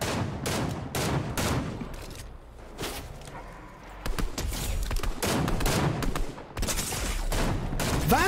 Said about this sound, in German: Von was werde ich angeschossen?